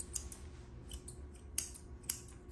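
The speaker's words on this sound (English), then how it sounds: "You can hear the scissors chunking through them." Scissors cut through matted fur on a Maltipoo, giving a few sharp crunching snips at irregular intervals over a quiet background, close and faint.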